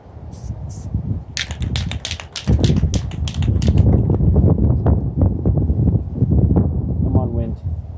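Gusty wind buffets the microphone in low rumbling bursts, with faint tapping and brief clicks scattered throughout.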